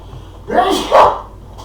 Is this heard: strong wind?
no